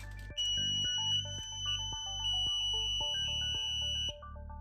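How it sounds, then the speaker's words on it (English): A homemade spy circuit's electronic buzzer sounds a steady, loud electronic tone that shifts in stepped pitches through a repeating beeping melody, running for nearly the whole stretch before cutting off, with no voices. "your buzzer should make a sound like this"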